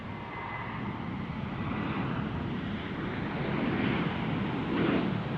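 Delta airliner passing at Boise airport, a steady broad jet roar that builds gently and peaks near the end, with wind noise and no talking.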